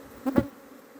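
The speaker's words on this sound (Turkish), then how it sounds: "Arı çok havalandı maalesef." Honey bees rise into the air from an opened hive during an April inspection in Adana, a brief close swell of buzzing with a couple of louder passes, then a low background hum.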